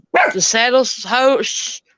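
A dog close by lets out a quick run of loud, high yelping barks and whiny yips over about two seconds, then goes quiet.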